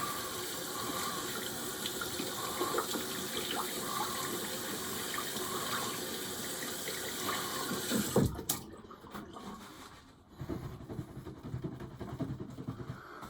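A shaving brush with a roughly 22 mm pearlescent handle is rinsed under a running bathroom tap, steady broadband water rush for about eight seconds, then the flow cuts off abruptly, leaving quieter dripping and handling noises.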